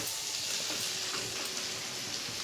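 Prawns and curry leaves frying in a pan, giving a soft, even sizzle with faint crackles, quiet and steady over the short stretch.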